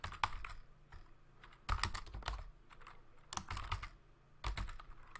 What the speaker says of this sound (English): Now we're going to type it this way.